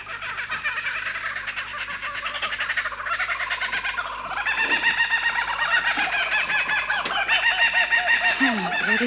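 A loud, dense chorus of chickens squawking and clucking, overlapping calls continuing throughout and growing louder toward the end.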